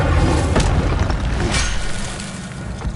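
A fiery Incendio spell blast from Harry Potter booms out with a deep, rumbling burst and a sharp crackling flare near the middle, then fades into a lower roar.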